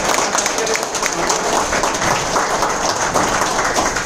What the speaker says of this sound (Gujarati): તો પોતાના માટે ફરી એકવાર તાળી.